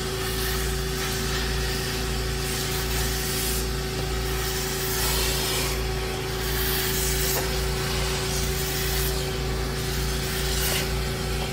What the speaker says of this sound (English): I'll take our carpet extractor and actually shampoo it out.